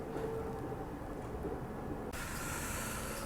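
The Mewar SF Express (12963) pulls out of Kota Junction, heard from inside a coach: a steady low rumble of rolling wheels with a brighter hiss that rises partway through. No one is talking.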